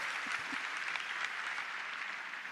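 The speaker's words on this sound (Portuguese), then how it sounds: "Eu queria que você aplaudisse a igreja" A church congregation at a Mass during a 2023 religious camp applauds: a dense, even, steady wash of clapping, fairly faint and distant, with no talk over it.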